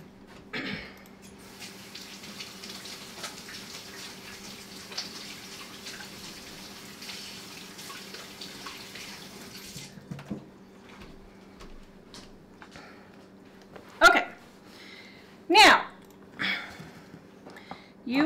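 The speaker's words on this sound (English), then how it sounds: "Now, let me rinse off my hands." Water runs from a kitchen tap while hands are rinsed, a soft steady flow for about ten seconds, followed by brief splashes and clatters.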